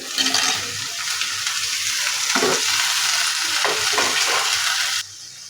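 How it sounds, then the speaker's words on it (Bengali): Chopped potatoes and pointed gourd with garlic and onion frying in a pan, a loud continuous sizzle with scraping stir strokes through the middle, dropping off abruptly near the end. "এটা সামান্য একটু ভেজে এখানে আমি দিয়ে দিব কুচি করে রাখা আলু, পটল।"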